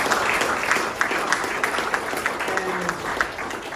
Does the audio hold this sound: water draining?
no